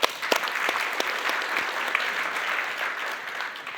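Audience applause breaks out at an investing talk, steady dense clapping from a room full of people sustained throughout, fairly close and even, with no speech over it.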